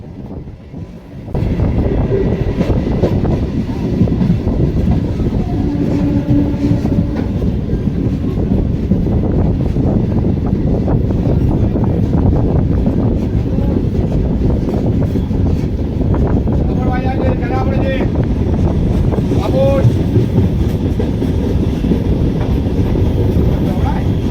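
Masagram to Bankura passenger train running toward Patrasayer station in Bankura district, heard from on board as a loud continuous rumble with clickety-clack of wheels, wind buffeting the microphone and faint squeals.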